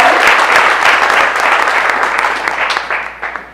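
An audience applauds a speaker named Karen: dense, loud clapping from a crowd that carries on steadily and tapers off toward the end, with no speech over it.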